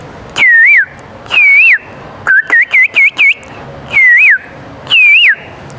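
A cuckoo's call imitated by a human voice at a school youth festival performance: clear whistled two-part calls, each a rising and falling phrase, repeated several times with a quick run of short whistles in the middle, loud and close with no talk.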